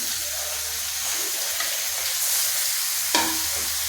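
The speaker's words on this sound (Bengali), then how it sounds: "আমি এবার চিকেনটা দিয়ে দিচ্ছি।" Raw chicken pieces sizzle steadily as they fry gently in a pan for chilli chicken, with continuous spatula stirring and a brief clatter near the end; no one speaks.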